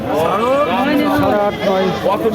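Goats at a rural livestock market give several loud, wavering bleats in quick succession, close to the listener, over busy market noise.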